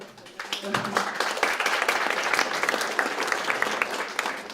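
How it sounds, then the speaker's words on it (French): An audience applauds ahead of a performer's arrival, a dense burst of clapping that swells within the first second and then holds steady and loud through the rest of the clip, with no voices. "Il n'est pas encore là et on l'applaudit déjà"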